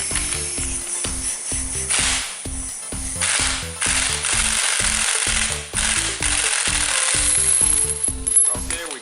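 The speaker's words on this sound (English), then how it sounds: "So you can take it off with the impact" Impact wrench zipping off the strut nut on a BMW E46 MacPherson strut held in a spring compressor, a loud, close, continuous rattling hammer with rapid pulsing impacts that runs for about nine seconds, no talk.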